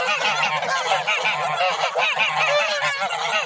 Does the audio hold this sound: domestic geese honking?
yes